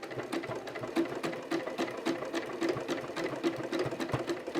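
Close, steady stitching from a sewing machine working along a fabric headband, with a fast regular needle tick throughout and no voices.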